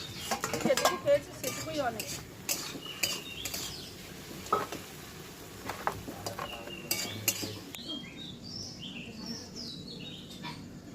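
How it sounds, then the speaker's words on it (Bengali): Small chunu fish frying in a pan with raw tomato nearby, heard as a light sizzle beneath frequent clinking and scraping of a spatula against the pan, close up, with faint bird chirps outside. "সুন্দরভাবে ভেজে আমি নিয়েছি"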